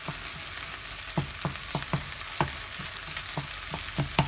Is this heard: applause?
no